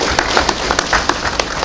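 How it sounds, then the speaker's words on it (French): Short burst of audience clapping at an official anti-corruption gathering, a close, brisk patter of hands with a few sharper individual claps standing out. "Je voudrais que vous puissiez applaudir pour vous-même."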